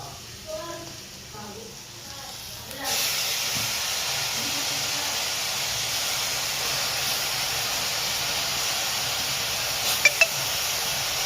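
Field beans tipped into hot masala in a pan set off a sudden loud, steady sizzle that holds to the end, following a few seconds of quieter kitchen sounds.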